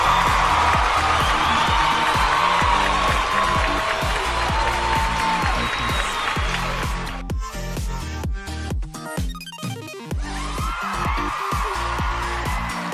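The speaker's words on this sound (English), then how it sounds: "Let's give them a massive round of applause" Game show audience applauding in a sustained round of clapping with scattered cheers, thinning into sparser claps midway before swelling again near the end.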